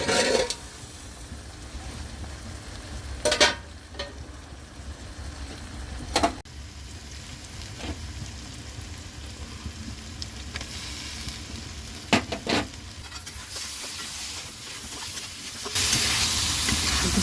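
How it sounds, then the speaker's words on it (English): Potatoes and spices cooking in a covered pan, giving a steady sizzle and steamy hiss throughout, broken by a few sharp knocks and clatters, with a louder hiss near the end. "Now I cover the pan to 3 to 4 minutes to cook the spices and soften the potatoes."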